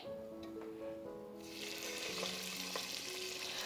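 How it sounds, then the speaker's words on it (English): Soft tonal ringing at first, then a steady hissing sizzle of Korean fried chicken deep frying in hot oil rises and continues. "I'm going to double fry this chicken so they will stay more crunchy and crispy."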